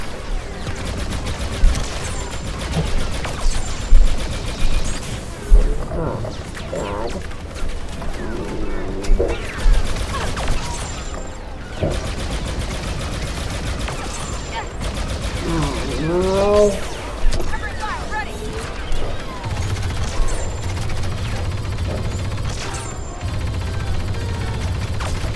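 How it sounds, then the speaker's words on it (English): Gunfire in the video game Star Wars Battlefront II: continuous blaster and rifle fusillades with sharp shots and impacts over a busy battle din, with a voice talking over the action. "they are all shooting at me"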